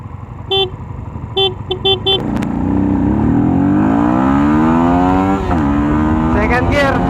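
A Yamaha Sniper 150 motorcycle with a stock engine revs hard and accelerates through its gears, the engine note climbing and dropping at each shift, loud and close, after a few short horn-like toots.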